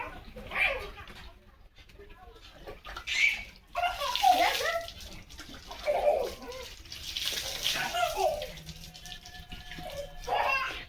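Water splashing and pouring in short, uneven bursts outdoors in a rural Indian village, heard under excited voices talking nearby.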